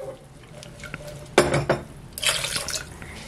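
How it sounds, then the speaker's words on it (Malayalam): Water poured into a cooking pot for a Kerala lunch dish comes in two short splashing bursts with light drips and clinks of the pot between them, close by and with no voices. "കുറച്ച് വെള്ളവും കൂടി അങ്ങോട്ട് ഒഴിച്ചിട്ട്."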